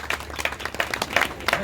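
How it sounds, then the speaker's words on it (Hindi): Guests at a Buddhist-rite wedding applaud as the groom garlands the bride, brief bursts of clapping close by with some crowd noise. "जोरदार तालियां भाई सभी।"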